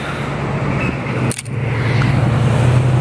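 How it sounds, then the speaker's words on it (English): A Canon A-1 film camera's shutter fires once, a single sharp mechanical click in mid-street, set against a steady wash of nearby road traffic. "I literally just took a picture of that truck."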